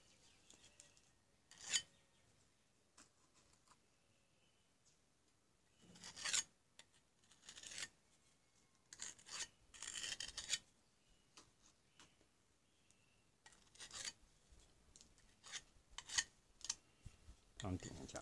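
Filler putty is spread and scraped over a wall-mounted holder for small plant pots, making faint intermittent rasping strokes with quiet gaps between them, close by.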